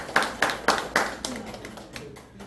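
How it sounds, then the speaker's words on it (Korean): An audience at a talk claps in a brief burst, with a handful of distinct, evenly spaced claps up front that soon thin out and fade into a quieter room. "동해안 분 박수 한번 해주세요."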